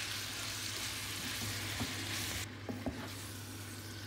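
Green beans sizzle in olive oil in a cast iron pan for Lebanese loubieh, a steady close frying hiss with a few soft clicks of stirring near the end.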